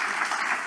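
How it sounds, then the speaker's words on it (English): Audience applause at the Big Irish Campfire 2022 event, a steady dense wash of clapping from a crowd, sustained and fairly loud throughout the short burst with no voices. "So a round of applause again for Joe McDonagh."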